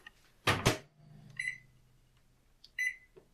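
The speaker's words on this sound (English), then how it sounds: "we'll just put it in the microwave" A microwave oven softening cream cheese gives a few short electronic beeps from its control panel, with a low hum between them, close by and fairly quiet.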